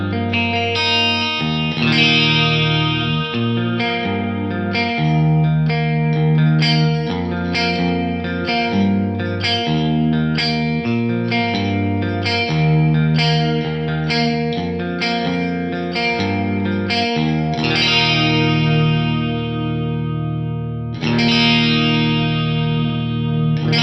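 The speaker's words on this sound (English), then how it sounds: "I'm gonna go for the stereo flanger." Distorted electric guitar chords played in a steady rhythm through a Lexicon MPX-1 stereo flanger, a sweeping, whooshing effect swirling across the tone; loud and continuous, no talking.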